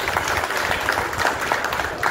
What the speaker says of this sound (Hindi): पहले तालियों से इसका स्वागत करते हैं।